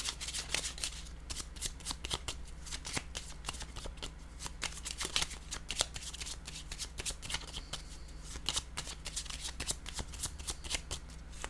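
A deck of cards being shuffled up close in a tarot-style reading, with repeated crisp riffling flutters and snapping ticks running continuously.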